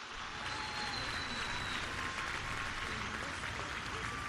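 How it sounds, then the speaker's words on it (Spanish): Sustained crowd applause at an outdoor public event for a new IMSS hospital in Culiacán, Sinaloa, honoring military engineers of Mexico's Defense Secretariat; a steady, dense wash of clapping with a faint tonal whistle drifting through. "Un aplauso a la Secretaría de la Defensa Nacional."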